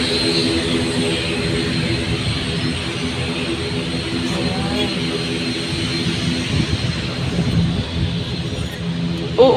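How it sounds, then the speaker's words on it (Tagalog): An airplane engine drones loudly and continuously at an airport, a steady roar filling the whole stretch with faint voices underneath. "Ba't ang ingay kaya ng aeroplano nito?"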